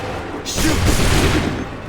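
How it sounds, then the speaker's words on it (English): Musket volley fire in Assassin's Creed 3, a single broad burst of massed shots at mid-distance, with a rumbling tail that swells and slowly fades over a steady background. "Wait for my signal. Fire now."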